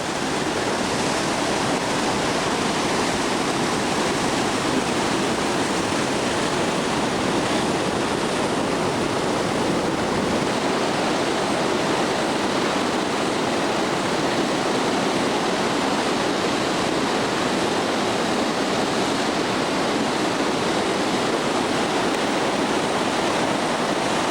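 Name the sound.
Huka Falls waterfall and rapids, New Zealand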